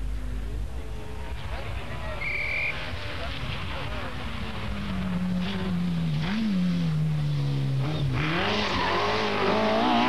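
A Ferrari rally car drives a stage, its engine note rising and falling as it shifts through gears and corners, heard under continuous commentary.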